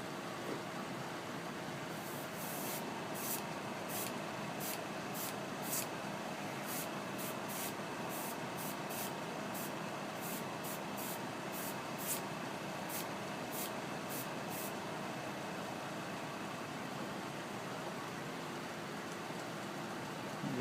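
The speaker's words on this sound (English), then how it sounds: "Just kind of spray it on the front there so it kind of runs." A steady hiss of spray paint applied to a model truck cab runs throughout, with a rapid series of sharp ticking clicks in the first half, no voices.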